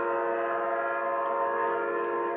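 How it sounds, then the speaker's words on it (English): City of New Orleans passenger train, running in from Chicago at more than 70 miles an hour, approaching a railroad crossing with a steady, loud, sustained horn blast that drones throughout with no talk. "barreling in from Chicago at more than 70 miles an hour, was the legendary passenger train, the city of New Orleans"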